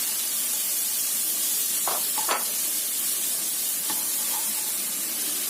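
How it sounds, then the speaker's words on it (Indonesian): Sausage slices and carrots are stir-fried together in a pan. A soft, even sizzling hiss runs throughout, with a few faint scrapes of the spatula. "Kemudian kita masukkan dulu sosis dan juga wortelnya, karena wortelnya ini agak lama ya matangnya. Ini kita tumis duluan sampai agak layu."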